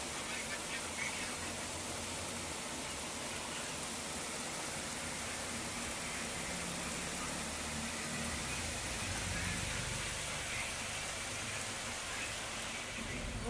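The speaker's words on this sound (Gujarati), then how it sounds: "મહુવામાં ધોધમાર વરસાદ." Heavy downpour in Mahuva, a steady broadband hiss of rain that holds constant throughout, with low rumbling beneath and faint voices mixed in.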